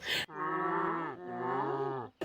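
A person imitates a cow's moo, one long drawn-out lowing call with a shifting pitch that lasts about two seconds, close to the microphone and with nothing else heard around it.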